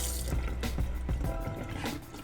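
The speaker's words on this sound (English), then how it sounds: "I like to wash my chicken just to get the bacteria out" Running tap water splashing steadily over raw chicken in a kitchen sink, with irregular drips and pours, loud and close throughout.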